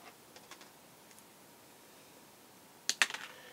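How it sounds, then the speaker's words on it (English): Kaiweets wire strippers snip through wire with a couple of sharp, close clicks and crunches late in an otherwise quiet moment, preceded by faint handling ticks. "Here, let's cut some wire."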